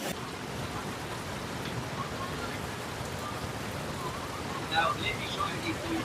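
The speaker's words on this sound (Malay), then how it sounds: "Hujan lagi." Steady rain hisses down over a campsite, a dense, even wash of drops with no pauses, close and constant throughout.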